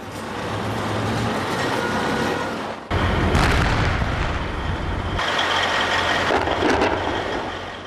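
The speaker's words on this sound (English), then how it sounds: "Explosions after dark." Explosions at night during urban combat in Fallujah, Iraq, heavy booming blasts and rumbling with a sharp loud onset midway, dense low roar throughout and no speech.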